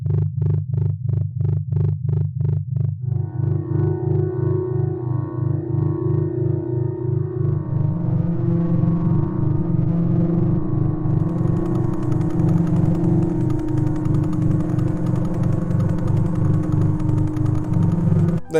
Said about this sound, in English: Did you know stars sing?